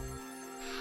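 A telephone rings inside the video game Ghost Trick: Phantom Detective, a short synthesized ring tone that sounds clearly with no talk over it.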